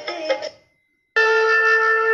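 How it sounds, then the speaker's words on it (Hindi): A talking Bhagavad Gita device plays a conch shell blast: after a short electronic tone and a moment of silence, a loud, steady, sustained horn-like note sounds alone. "फिर शंख पे करेंगे तो शंख बज जाएगा हमारा।"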